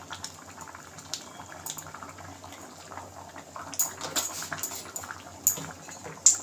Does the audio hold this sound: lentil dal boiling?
yes